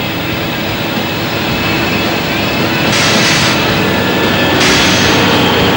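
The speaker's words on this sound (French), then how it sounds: "Le bruit que vous entendez là, c'est le bruit des freins." Truck brakes in the Dreamcast game 18 Wheeler American Pro Trucker: a loud, steady engine roar, broken by two short, sharp hissing bursts.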